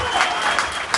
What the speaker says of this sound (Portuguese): Aplausos pro Cleiton, vai lá, gente.